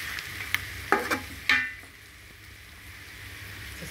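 Food frying in a pan on a stove, a few sharp scraping stirs and clanks over a soft continuous sizzle that continues alone afterward.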